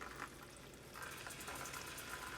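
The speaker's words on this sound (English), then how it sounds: "We're just going to drain the water out of that." Water drains out of a bag of cooked shrimp in a faint, steady trickle and splash, a quiet continuous liquid sound with no talking.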